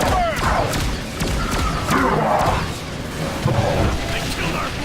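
Heavy thuds and booms of an artillery strike land in The Bureau: XCOM Declassified, loud repeated impacts over a sustained rumble, with voices shouting through the combat.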